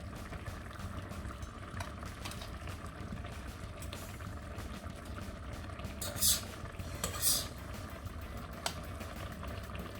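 Okra sauce with onion and tomato simmering in a pot, a low steady bubbling and gurgling that runs continuously, with a couple of brief brighter splashes or pops midway.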